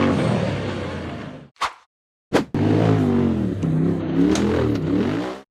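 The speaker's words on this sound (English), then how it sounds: "The buggy accelerated hard up the rocky dirt trail" An off-road buggy engine revs hard and accelerates up a steep rocky dirt slope, loud and close, cutting out twice in brief gaps before surging again with a rising, strained roar.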